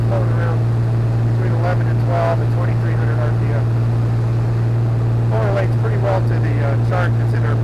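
The steady, loud drone of a Navion light aircraft engine fills the cockpit at about 2,300 RPM, a constant low hum with someone talking over it.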